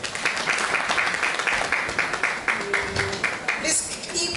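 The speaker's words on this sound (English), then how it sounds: "the applause going as she makes her way back to her seat" Sustained audience applause in a hall after a school-themed talk ends, loud, even clapping from a sizable crowd lasting the whole stretch as the speaker walks back to her seat.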